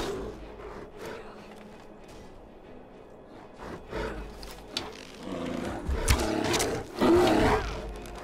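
A bear roars during combat in Skyrim, several deep growling bursts building louder toward the end amid fight noises and whooshes.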